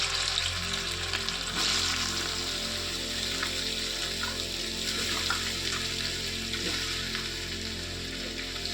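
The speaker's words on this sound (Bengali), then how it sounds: "ওই যে পেঁয়াজ ভাজার তেলেই আমি একটু ভেজে নেব" Halved boiled potatoes fry in oil left from frying onions, giving a steady, close sizzle with faint stirring and occasional soft knocks in the pan.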